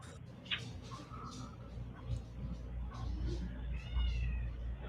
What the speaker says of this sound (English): You hear the kitty?